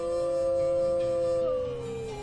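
A black wolf howls in Yellowstone, one long, steady, tonal cry that is loud and close, holding its pitch for about two seconds before shifting slightly at the end, with no other voices.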